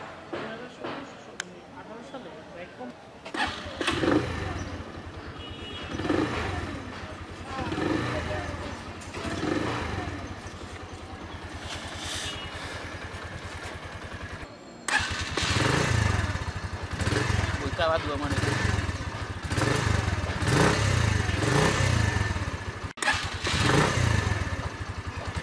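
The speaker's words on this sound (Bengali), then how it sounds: "সো এবার আসি আমরা স্টার্ট দিয়ে দেখি যে আসলে এটার ইঞ্জিনের সাউন্ডটা কেমন চলবে।" A Keeway RKS 100 v3 motorcycle engine cranks, catches and runs, first with a few uneven revs, then a louder steady idle and rev after a brief cutoff, heard close, with a voice at times.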